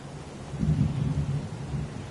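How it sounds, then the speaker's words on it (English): Heavy rain pours in the game Heavy Rain, a low steady wash with rumbling swells like distant thunder, fairly quiet and continuous with no talk over it. "It's pouring rain."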